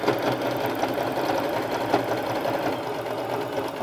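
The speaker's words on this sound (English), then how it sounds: "I'll just do a zigzag stitch, go forward and back stitch." Close, steady whirring and rapid rhythmic knocking of a sewing machine zigzag stitching over a fabric flower on a headband, running continuously without pause or speech.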